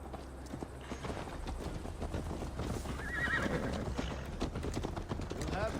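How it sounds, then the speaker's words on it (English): Horse hooves clip-clop steadily during a ride in the video game Assassin's Creed Valhalla, with whinnies and neighs rising over a constant game soundscape and low background hum, plus some speech. "Mount up, Eivor. It's a long ride to Tamworth"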